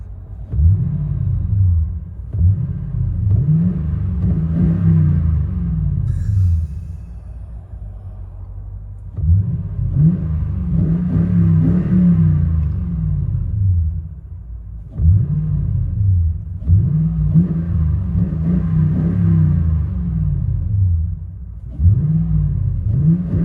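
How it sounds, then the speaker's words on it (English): A deep V8 exhaust on a 2009 Toyota Tundra 5.7L with Carven TR mufflers, true duals and X-pipe revs repeatedly, rumbling up and falling back in loud bursts with brief idling gaps between, close and heavy. "Toyota Tundra, Carven TR, true duals with X-Pipe."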